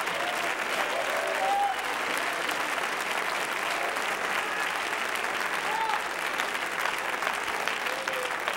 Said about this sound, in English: Clap your hands and shout.